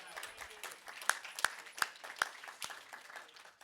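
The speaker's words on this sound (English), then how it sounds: "an extra round of applause for Catherine" Audience applause at a talk on fungal ecology and mushroom identification, a thin, fairly quiet patter of clapping with a few sharp, distinct individual claps standing out.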